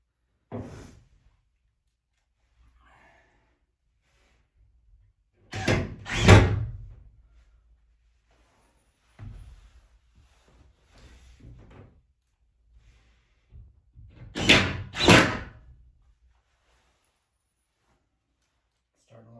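Nail gun firing while framing a wall during a bonus room remodel: a few sharp, isolated bangs spaced several seconds apart, with near silence between them.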